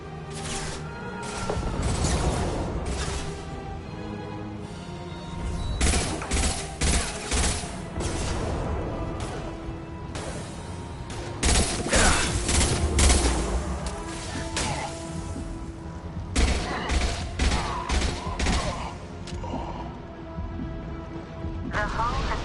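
Grenade blasts and bursts of gunfire in the Mass Effect 2 Legendary Edition combat on PS5, heavy booms and rattling shots in repeated loud clusters, mixed with game music and voices.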